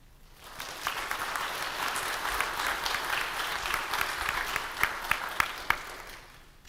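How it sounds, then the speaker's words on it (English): A church congregation in Mt. Sterling, Kentucky, gives a round of applause that swells from quiet into a steady, moderately loud wash of clapping, with a few sharp individual claps standing out before it tapers off. "Please give him a round of applause."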